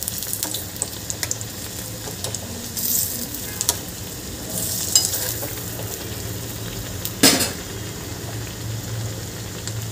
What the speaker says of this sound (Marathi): असं आपल्याला अलटपलट करून पूर्ण पकोडे तळून घ्यायचे आहे.